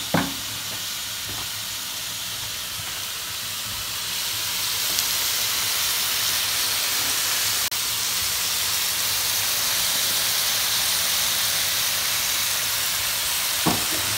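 Chicken pieces frying in a pan, a steady loud hiss and sizzle running unbroken throughout, with a few faint utensil knocks at the start and end.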